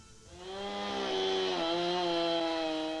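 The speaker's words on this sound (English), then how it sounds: "Lissi roughs out the shape of the bowl with her chainsaw" A chainsaw runs steadily at high revs, its engine whine climbing as it bites into a wooden log, roughing out a large bowl, loud and close with no talking.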